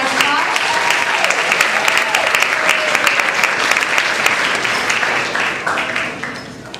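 Dense, sustained applause from a school awards ceremony audience honoring middle school students, steady and loud throughout before thinning and fading in the final second.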